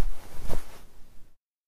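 A foley long-sleeve shirt with all its buttons removed, rustled and swished close up: soft fabric brushing with one stronger swipe midway, then fading out to silence.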